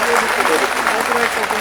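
Audience applause at a rally in India, a dense, steady wash of clapping that fills the whole short stretch at fairly high volume.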